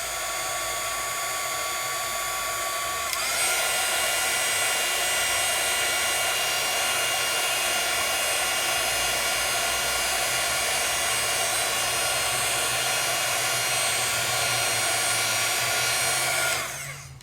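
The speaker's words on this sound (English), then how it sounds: "I'm going to use my heat tool super fast to dry it because I put quite a bit on there" A craft heat tool blows hot air to dry ink on a project. Its high, steady whine and rushing airflow run continuously for about fourteen seconds, jump in pitch after a few seconds when set to high speed, then wind down at the end.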